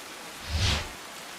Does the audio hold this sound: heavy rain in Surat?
yes